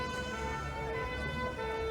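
Wailing ambulance and fire engine sirens sound steadily and fairly faint, layered tones holding without a break over the whole short stretch, heard at a classic Mini and Metro car show.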